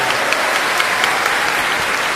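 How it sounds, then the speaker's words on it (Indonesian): An indoor audience claps steadily at a public talk event, dense applause holding at an even level throughout. "tepuk tangan buat Maryam."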